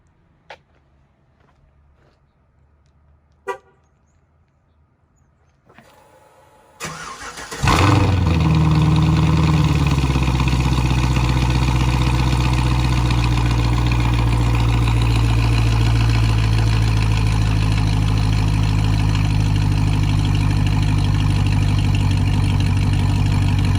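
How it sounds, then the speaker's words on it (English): A few faint clicks, then a Cadillac CTS-V engine cranks and fires up loudly on a cold start, settling into a steady, rumbling idle through a stainless cat-back exhaust that continues unchanged to the end. "I want to get a cold start."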